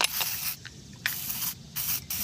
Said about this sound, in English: So we're gonna clean it with carburetor cleaner